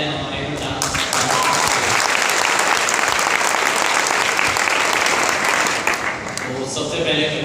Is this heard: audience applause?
yes